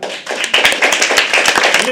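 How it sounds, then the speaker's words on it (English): An audience at a live poetry open mic claps in a brisk, dense burst of many hands, loud and close, with a few sharper individual claps standing out. "Keep clapping till she comes on stage."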